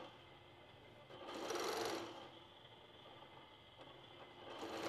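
A longarm quilting sewing machine stitching through fabric for a cozy cuddle kit, a steady motor whir that swells loudly for a second as the machine is pulled, then settles back to a softer hum.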